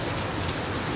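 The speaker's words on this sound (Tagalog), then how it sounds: "Bigla na lang naulan." Sudden rain pours steadily on an island in Saipan, a dense, even hiss of drops striking surfaces close by with no pauses.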